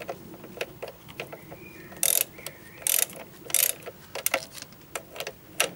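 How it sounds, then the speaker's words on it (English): A ratchet wrench loosens the lower bolt of the tensioner pulley on a car engine during a crankshaft damper pulley change, giving several bursts of quick clicking pawl ticks, close and fairly loud, with short pauses between strokes. "Loosen the tensioner pulley lower bolt."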